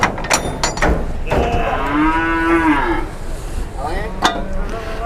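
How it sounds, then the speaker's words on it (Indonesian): A huge Simmental cow at Muntilan livestock market lets out one long, loud, close moo amid market clatter, with people talking around it before and after. "Di depan saya udah ada sapi super jumbo ini. Sapi jenis apa ini? Semetal ya."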